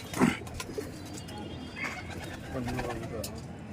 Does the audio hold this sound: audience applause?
no